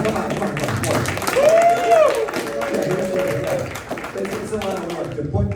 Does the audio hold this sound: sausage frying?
no